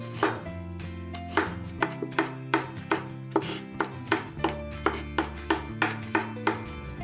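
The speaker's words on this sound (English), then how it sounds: "Finely chop some garlic." Garlic being finely chopped with a knife on a cutting board, a steady run of crisp, evenly spaced knocks about two per second, close and clear with no talking.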